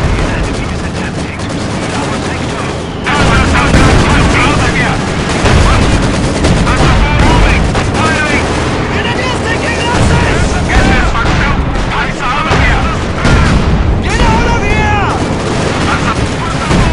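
Battle in Company of Heroes 2, with an anti-tank gun and tanks in play: dense, loud gunfire, machine-gun bursts and heavy explosions overlap almost without pause, with occasional voices mixed into the din.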